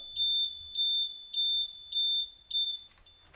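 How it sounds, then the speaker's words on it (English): A simple circuit alarm triggered by a sensor beeps five times in a steady rhythm, each high-pitched tone lasting about a third of a second, clear and close. "so we have a very basic potential alarm system here"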